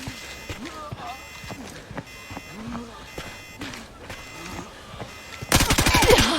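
A loud, rapid burst of automatic gunfire from the Arena Breakout shooter game on the Northridge map closes the clip. Excited voices and game noise run through the first part.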